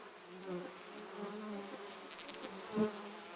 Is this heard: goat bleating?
no